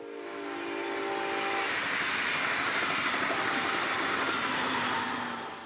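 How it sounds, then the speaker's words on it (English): A northbound Brightline train rumbles past near Fort Pierce, South Florida, a sustained broad roar swelling and holding steady with faint wheel clatter and a brief horn-like tone at the start. "A northbound Brightline would pass by, opening the route for train 208 following closely behind."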